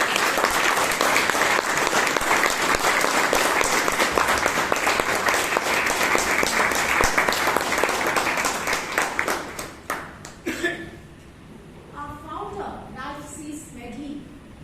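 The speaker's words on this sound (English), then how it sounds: "please give her a huge round of applause" Audience applause at a Bangalore Toastmasters meeting: a sustained, dense round of clapping from a crowd that thins out near the end into a few scattered claps, followed by a voice speaking.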